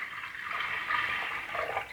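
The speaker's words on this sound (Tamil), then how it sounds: "பருப்பு வேகிற அளவுக்கு தண்ணியை சேர்த்துப்போம்." Water pours steadily from a tap or vessel into a pressure cooker holding washed toor dal for rasam. The pour is a continuous, moderately close stream, alone with no talk.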